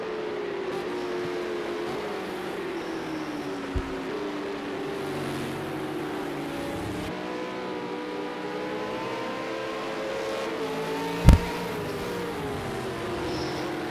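V8 Supercars in a Bathurst 1000 sim race video game accelerate with a continuous engine drone and shifting pitch, plus a sharp knock partway through.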